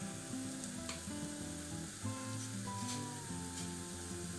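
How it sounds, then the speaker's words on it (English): Food sizzling steadily in a hot pan during a stir fry, a continuous close crackle and hiss with light stirring, no talk. "Fry these up a little bit."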